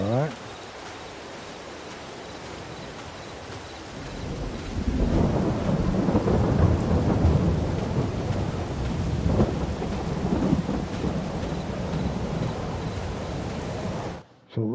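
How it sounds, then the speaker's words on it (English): Rain and thunder in Farming Simulator 22: steady rainfall hiss swells midway into a heavy rumbling roll of thunder, then cuts off abruptly near the end. "Oh, it's raining."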